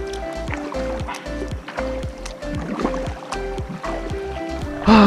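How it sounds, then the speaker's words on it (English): A kayak glides through creek water with rhythmic paddle strokes. There are regular splashes and drips, close and moderately loud, and a brief louder swish comes at the very end. "I love this kayak, man. It just glides through the water."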